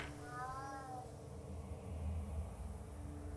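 A cat meows once near the start inside the horror hidden-object adventure game Fear For Sale 10: Hidden in the Darkness, a short rising cry over a steady low ambient hum.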